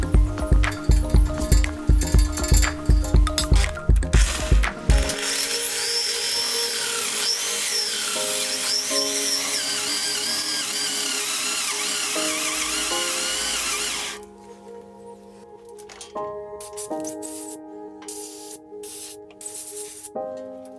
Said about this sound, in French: on va percer en 8-3 pour insérer une hélicoïde ou un fil à rapporter en M8